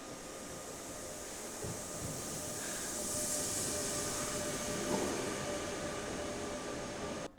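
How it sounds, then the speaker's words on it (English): Train rolling out of a Vienna station at the close of a 48-hour rail journey from London: a steady, even rumble and hiss of carriages on track, moderately close and unbroken, with no one talking. "the final train of our 48-hour experience pulling away from Vienna"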